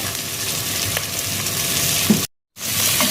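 Sliced onions sautéing in a pan with salt for chicken rice, a steady close sizzle with a few faint stirring scrapes, broken by a brief cut to silence before it resumes.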